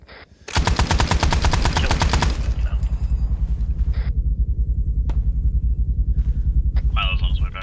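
Rapid, sustained machine-gun fire strafing in Arma 3 in a Vietnam setting: a dense, rattling burst for about two seconds, then continuing rumble with scattered sharper shots and a background engine drone.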